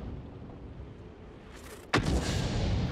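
A tank cannon fires in World of Tanks: one sudden loud boom about two seconds in, after a low engine rumble, followed by a sustained roaring decay.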